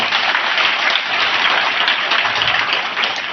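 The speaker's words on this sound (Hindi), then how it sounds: "एक बार शिक्षकों के लिए तालियां बजा दें" Dense, steady applause from a large crowd of students for their teachers, many hands clapping continuously at even loudness throughout, with no voices standing out.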